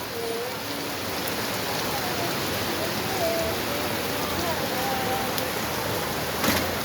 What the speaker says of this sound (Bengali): আবার বৃষ্টি নামছে, প্রচণ্ড বৃষ্টি নামছে আবার